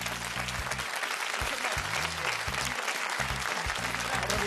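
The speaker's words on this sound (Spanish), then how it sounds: "Aplauso para ellos." Studio audience applause on a Spanish TV quiz show, a full, sustained round of clapping from the crowd with music playing beneath.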